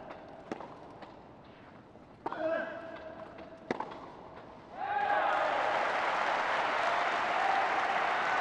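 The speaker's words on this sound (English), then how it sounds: "you probably heard quite a healthy round of applause ringing out here at centre court" Applause from the crowd at centre court during Paralympic wheelchair tennis in Tokyo; a few sharp knocks and a brief murmur come first, then a dense, loud, sustained round of clapping swells in and carries to the end.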